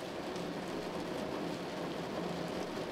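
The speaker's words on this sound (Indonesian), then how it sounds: "Terkadang hujan turun sesekali, memecah sepi" Rain falls steadily with a constant, even hiss and no pauses, voices or other sounds.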